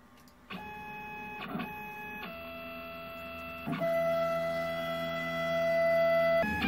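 CNC router with a homemade drag knife cutting material, a steady tonal motor whine that shifts pitch in distinct steps as passes change, running alone without talk.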